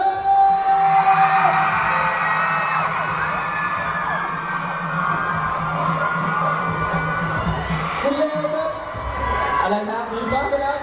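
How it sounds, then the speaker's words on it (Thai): A blue-team cheering squad at a school sports event shouts and whoops together, a loud sustained crowd roar that holds steady and then breaks into choppier calls near the end. "กองเชียร์สีฟ้าขอเสียงหน่อย"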